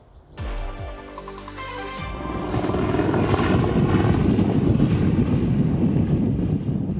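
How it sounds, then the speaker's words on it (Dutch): A Dakota propeller airplane flies at Groningen Airport Eelde. A loud, rising engine roar starts abruptly and builds into a steady, broad drone, with wind buffeting the microphone throughout. "De allerlaatste keer dat het iconische Dakota-vliegtuig vanaf Groningen Airport Eelde een rondvlucht maakt"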